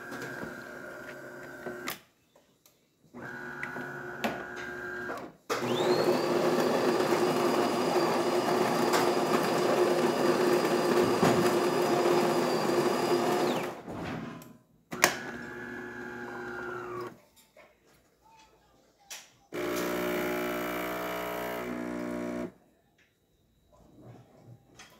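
A Delonghi Caffe Corso espresso machine pulls a test shot after a full cleaning: intermittent pump hums and mechanical whirring in separate bursts, with a longer steady drone in the middle and clicks between, fairly quiet overall.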